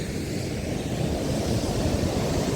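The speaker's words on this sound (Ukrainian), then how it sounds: "Море хвилюється, оце хвилі." Stormy sea waves at Odesa roar as a continuous broadband wash, with wind buffeting the microphone, steady and loud, with no speech.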